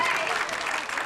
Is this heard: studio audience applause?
yes